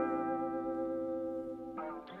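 Layered stack of electric guitars in a pop track's chorus, sustained chords shimmering with chorus and reverb effects, steady and full, then a brighter strummed swell near the end, no voices.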